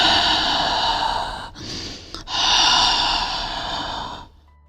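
A voice imitates eerie, heavy breathing heard beside a bed at night, two long breathy exhalations separated by a brief pause, close and fairly loud, with no talking.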